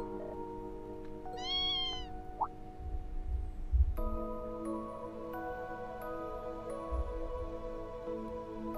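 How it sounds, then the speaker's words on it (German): A stray cat in the video game Tokyo Xanadu gives a single short meow over soft game music with chiming tones. "Ist das eine streunende Katze?"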